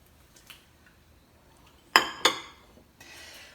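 A whole onion dropped into an Instant Pot lands with two sharp clattering knocks against the metal insert, followed by a short rustle.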